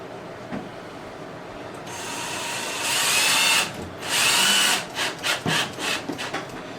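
A power drill drives screws into a particleboard furniture panel during flat-pack assembly, with a quiet lead-in followed by two loud whirring bursts and several shorter pulses as the screws seat, close up.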